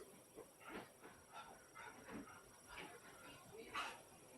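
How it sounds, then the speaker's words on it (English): A dog whimpers and gives short yips and barks in a run of brief, fairly close bursts, with a faint voice in the background. "want to see this dog too"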